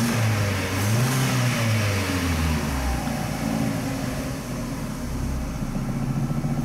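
Volkswagen Gol G5 engine running close by with a couple of rising and falling revs before settling back to a steady low idle; no talking.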